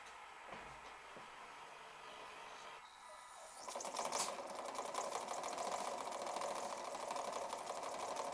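A model twin-cylinder steam engine with Meccano gears, driven by compressed air, rises from a faint hiss into a rapid, even mechanical clatter that carries on quietly to the end.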